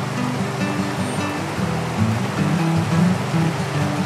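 A small stream on the Yuba River, a trout water, runs in a steady broadband rush of flowing water that stays close and fairly even, with no voices over it.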